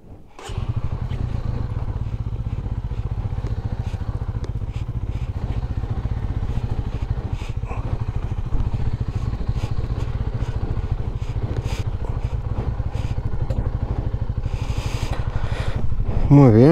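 Motorcycle engine running steadily throughout on a ride back home, a continuous mid-pitched drone with some clatter and scraping, fairly loud and close, with a brief sound at the very end.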